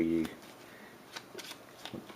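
Board game cards from a Robinson Crusoe: Castaways deck being shuffled, with a few crisp riffling bursts after a brief voice, close and fairly quiet.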